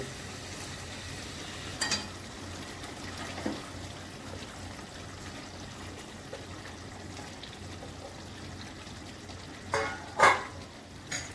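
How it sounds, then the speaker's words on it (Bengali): Rohu fish curry broth with yogurt and spices boils in a pan in a home kitchen, giving a faint, steady simmering sizzle over a low hum, with a few brief louder bubbling bursts. "এবার আমি মাছগুলো দিয়ে দিচ্ছি, ঝোল ফুটছে।"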